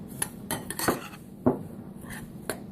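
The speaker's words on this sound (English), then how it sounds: "And we're going to give that a quick stir." A utensil stirring seasoned onion ring batter in a bowl, sharp clinks and scrapes against the bowl in short bursts about every half second, close and fairly quiet.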